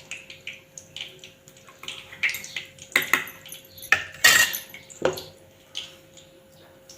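Utensils clatter and scrape against a pan while chickpea curry masala is stirred and sautéed, with irregular close metallic knocks and a few louder clanks, no talking.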